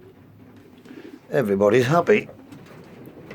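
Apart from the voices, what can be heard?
race pigeons and fantail pigeons cooing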